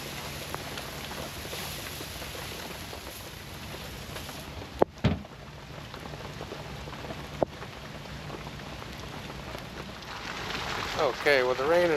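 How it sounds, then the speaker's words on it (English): Steady rain falling outdoors beside a smoker used for an apple pie, a continuous hiss of drops with a couple of sharp knocks midway and some rustling near the end. "the rain is really starting to come down now"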